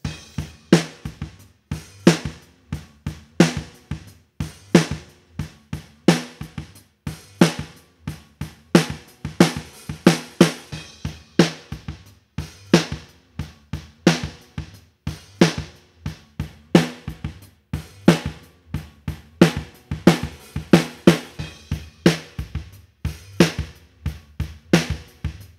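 A snare drum recorded with a Universal Audio SD3 microphone through the Hemisphere mic-modeling plugin plays a steady groove of sharp, close hits, some accented, repeating without pause for about twenty-five seconds with nothing else heard.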